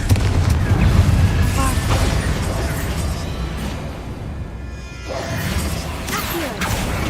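Confringo spell blasts in Hogwarts Legacy: dense, continuous booming and crashing combat effects with whooshes, loud and layered throughout, with a short dip midway, under a voice calling out spells.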